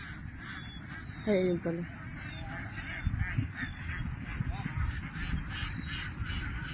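Ducks being herded in a rural province quack and honk in a few short bursts at mid distance over steady outdoor background noise, with a person speaking briefly.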